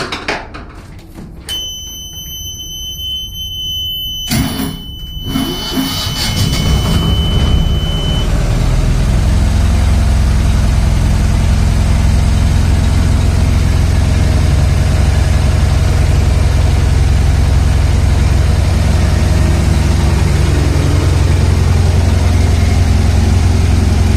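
A lifeboat engine cranks on battery power and catches after a few seconds, then settles into a loud, steady, low idle that holds to the end.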